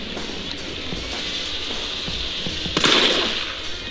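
Gunfire aimed at zombies in the first-person mod of Resident Evil 3, heard as a run of sharp shots over a busy game background, with a denser burst near the end.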